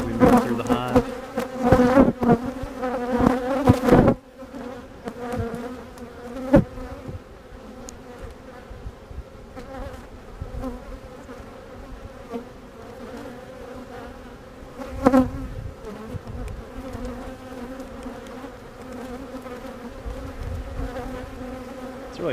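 Honeybees buzz steadily during an open beehive inspection: a dense, close swarm hum that is loudest for the first four seconds, then settles into a lower continuous drone with a brief louder swell midway.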